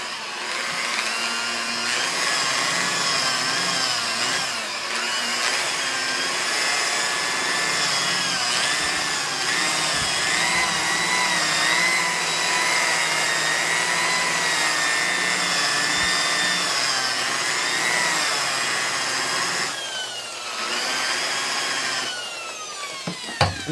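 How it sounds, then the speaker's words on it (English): A power buffer spins steadily against motorcycle paint at low RPM, a continuous whirring drone that holds at an even, moderately loud level for most of the stretch, dipping briefly near the end. "Remember when you're buffing, always run your buffer off of any edges"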